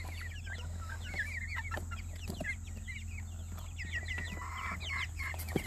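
Young silkie chickens cluck and chirp softly in quick, repeated calls over a steady low hum, fairly close and with no one talking.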